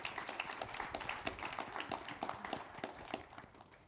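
A live audience applauds after a panel discussion on consumer brands, a dense, steady wash of many hands clapping that carries through the whole moment at moderate loudness.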